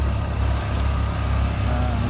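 A low, unbroken engine drone from tractors running at a Portland tractor and engine show holds steady for a couple of seconds, moderately loud against a noisy outdoor background.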